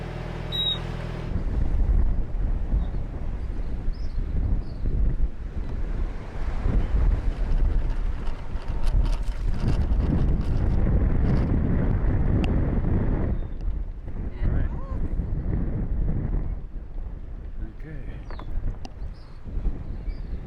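Strong wind buffets a sailboat as it casts loose from its mooring near Bonaire, a loud, steady roar of gusts and microphone rumble with water and hull noise beneath, easing slightly toward the end.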